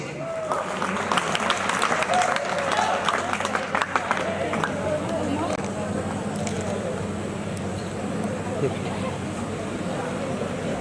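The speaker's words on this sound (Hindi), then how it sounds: "तालियों की गड़गड़ाहट बजती रहनी चाहिए।" Sustained audience applause for prize winners at a college event, mid-level and rolling continuously under faint background voices, tapering slightly toward the end.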